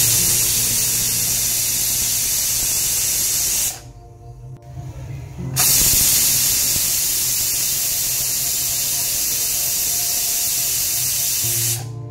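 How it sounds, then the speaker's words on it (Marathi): A pressure cooker cooking khichdi lets off two long, loud whistles of hissing steam, split by a short quiet gap, heard close by. "इथे तुम्ही बघितलंच कुकरच्या 2 शिट्ट्या झाल्यात"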